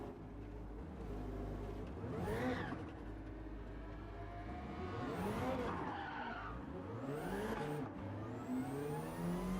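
Tires skid and squeal on a Subaru BRZ in Gran Turismo 7 as it fights snap oversteer in a WERA endurance race, with the engine revving and rising in pitch through several long continuous slides.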